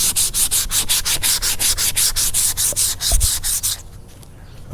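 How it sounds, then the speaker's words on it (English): Rhythmic back-and-forth sanding strokes on a fiberglass repair of a cracked Box Chevy dash pad, close and loud, about fifteen quick rasping passes before stopping. "I finished up sanding."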